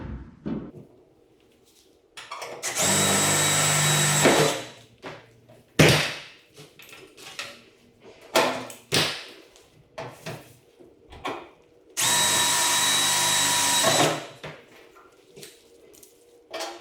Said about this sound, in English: drilled some little holes in it, we're just going to transfer those into the structure